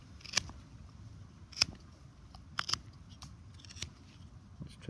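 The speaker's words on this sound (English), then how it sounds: "we'll just use the blade to trim this off" A Victorinox knife blade trims a wooden peg, giving a few quiet, sharp snipping clicks spaced irregularly over a faint background, with no talk.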